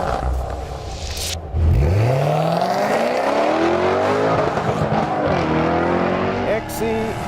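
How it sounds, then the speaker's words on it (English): A Jaguar XE SV Project 8, a 600 PS all-wheel-drive sports car, driving hard on the Goodwood track, its engine revving and rising through gears up close with some tire noise, while a person speaks over it. "We've been working on this car for the last 18 months, honing it into the track-ready 600 PS all-wheel drive weapon."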